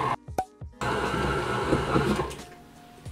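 A mixer kneads brioche dough, starting with a few short clunks and bursts before settling into a steady, loud motor whir and churning that eases off near the end.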